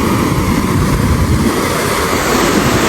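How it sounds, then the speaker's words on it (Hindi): Water rushing and falling steadily in a canal beside a road bridge, a loud continuous broadband roar close by, with no talk. "चेक करें कैसे पानी गिर रहा है"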